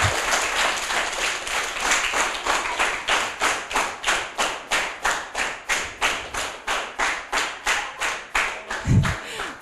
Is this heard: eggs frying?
no